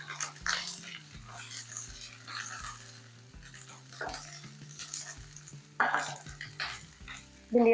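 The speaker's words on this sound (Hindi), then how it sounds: "मिक्स करेंगे और भिंडियों को 4 से 5 मिनट के लिए फ्राई कर लेंगे।" Okra and onions frying in a pan, with a steady sizzle broken by periodic stirring scrapes and a couple of sharper clatters near the end, no voice heard.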